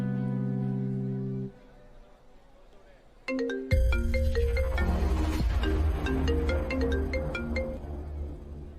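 Phone ringtone plays in a Hindi TV drama scene, first a sustained electronic tone, then after a short gap a brighter melodic ring that repeats loudly with a musical backing.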